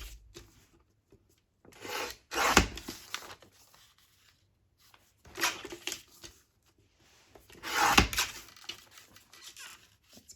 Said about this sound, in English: I might get my cutter, it might be easier. Just trim a little bit off.